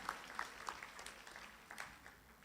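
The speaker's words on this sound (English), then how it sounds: "Let's clap our members of faculty." An audience applauds faculty members at a community college graduation ceremony, with scattered, fairly faint clapping that sounds distant and sparse, rising and fading over a few seconds.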